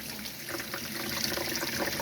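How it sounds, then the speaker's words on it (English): Hot water runs from a tap in a Bailey Pegasus Panther caravan. The stream pours in a steady, soft, close trickle, with no speech over it. "Hot water coming out of the caravan,"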